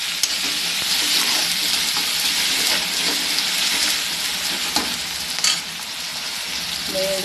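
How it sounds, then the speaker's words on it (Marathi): Onion frying in a pan for khichdi, a loud, continuous close sizzle with faint stirring scrapes and a brief clink near the end. "व्यवस्थित कांदा फ्राय होऊन द्यायचा आहे, तळून घ्यायचं आहे."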